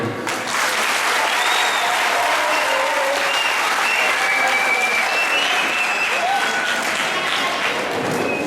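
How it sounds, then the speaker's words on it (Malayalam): An audience applauds at a conference valedictory ceremony, with sustained, dense clapping from a large crowd that runs evenly for the full length with no break. "ഇനി എല്ലാവരും ചേർന്ന് കൈയടിക്കണം, പങ്കെടുത്ത എല്ലാവർക്കും വേണ്ടി."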